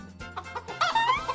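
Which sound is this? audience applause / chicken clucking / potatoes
chicken clucking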